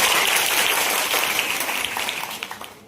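Students at an inter college event applaud their principal with loud, dense clapping that starts full and gradually thins into scattered individual claps.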